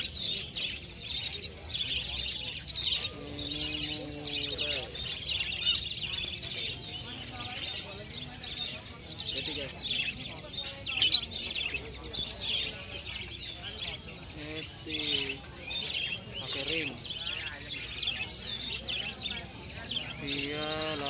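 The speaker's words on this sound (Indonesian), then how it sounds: "nemu burung gereja di pasar nih" House sparrows chirp at a bird market, scattered close tweets over a busy background murmur, with people talking throughout.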